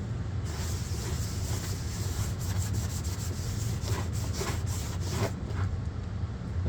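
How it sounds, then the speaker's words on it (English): Pergamenata paper is rubbed by hand during dyeing, making a steady close dry scraping sound with quick repeated strokes toward the end. "Rubbing"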